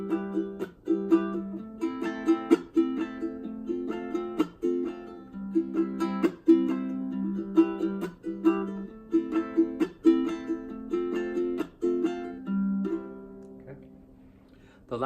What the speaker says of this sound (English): so we got a pluck on the 1 and the 3 and a chuck on the 2 and the 4.